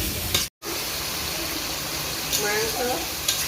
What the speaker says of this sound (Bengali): গোটা রসুনও দিয়ে দেবো কিছু একটু লাল করে ভেজে নেব